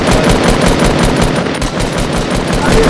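Rapid automatic gunfire in the Fortnite video game, loud and close, fires in a continuous dense stream of shots with no break for the full stretch.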